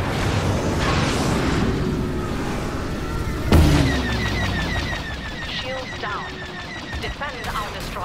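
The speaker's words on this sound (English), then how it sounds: "What is making that big explosion?" A big explosion booms midway through a battle in the Star Wars Battlefront 2 beta, over continuous loud gunfire and combat noise, with chirping blaster tones afterward.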